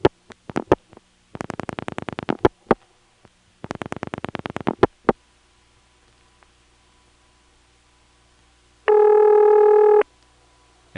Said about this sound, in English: I'm going to dial 4 digits beginning with 1.